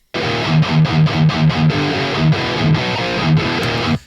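A heavily distorted electric guitar through a 2005 Vintage 30 speaker impulse response chugs a rhythmic riff with palm-muted bursts and ringing notes, loud and close, with no voices.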